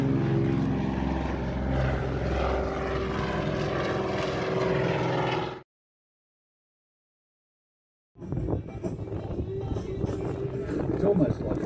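A de Havilland DHC-4 Caribou's propellers drone loudly during a flight display at Wings Over Illawarra, a steady engine roar that cuts out for about two seconds and then returns, with a voice talking over it.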